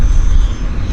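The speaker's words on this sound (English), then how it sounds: "right there, Saab 340 starting engines" A Saab 340 turboprop commuter airliner starting its engines at an airport terminal gives a loud, close, low engine roar that holds steady through a brief moment.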